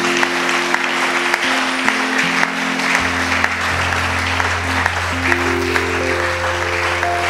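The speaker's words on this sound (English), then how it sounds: "Clap your hand for Jesus." A church congregation claps hands for Jesus during a service. The applause is dense and continuous under steady sustained organ or keyboard tones that shift pitch throughout.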